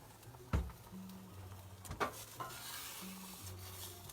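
Food sizzles steadily in a pan, with a few sharp clanks of a utensil stirring and scraping.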